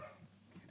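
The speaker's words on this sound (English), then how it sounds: "I'm so sorry if you can hear a dog barking right now," A neighbour's dog barks faintly in the distance, a couple of short muffled yips in a quiet room.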